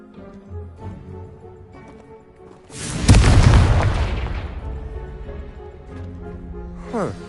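Confringo fire spell blast in the video game Hogwarts Legacy: a single loud, booming explosion that erupts suddenly and then rumbles and decays over several seconds, with quieter game sounds before and after.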